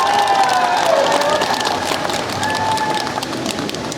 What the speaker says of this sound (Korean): 여러분 뜨거운 박수로 맞이하시기 바랍니다.